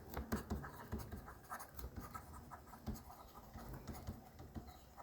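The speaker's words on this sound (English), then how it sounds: "We can write it down as well." Pen scratching on paper while writing out notes for an A Level accounting exam answer, a steady soft scribbling with small bursts of strokes throughout.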